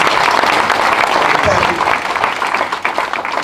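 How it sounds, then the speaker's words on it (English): A crowd at a community gathering gives a sustained round of applause for a speaker, with dense steady clapping filling the space throughout and some voices mixed in. "Let's give our brother another round of applause."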